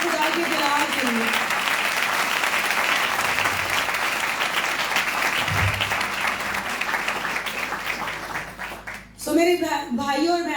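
A church congregation claps in strong, sustained applause lasting several seconds. It then thins out, and a preacher's voice returns at the end.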